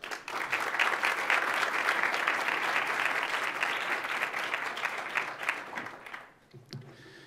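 A panel audience applauds a speaker with loud, dense, continuous clapping that holds steady for about six seconds, then drops away as a voice comes in.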